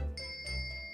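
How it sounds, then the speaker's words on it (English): In the Ace Attorney Chronicles video game, a pulled bell cord sets off a short bright ding, a clear tinkling tone ringing and fading within a second, quiet and alone. "Yes, it's a bell cord."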